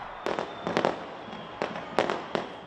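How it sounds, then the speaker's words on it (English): New Year fireworks over Auckland, launched from the Sky Tower and the harbour bridge, crack and boom in a rapid irregular series of sharp bursts with brief crackling tails, moderately distant and loud, with no talk. "Fireworks were launched from its tallest building, the Sky Tower, and its harbour bridge."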